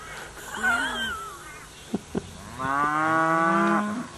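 Cows in a paddock moo loudly and close by, one long wavering call followed after a short pause by a second, deeper sustained moo, with a couple of sharp knocks in between.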